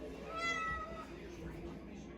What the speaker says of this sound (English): We're gonna feature the kitty for a second here.